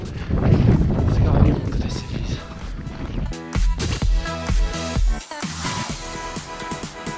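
Strong wind buffets the microphone at night on the summit of Cherni Vrah, near a bell post, with heavy low rumbling gusts before people start talking over it.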